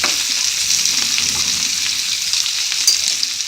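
Vegetables fry in a pan for sooji upma, giving a steady, close sizzle with scraping stirring sounds and no voices.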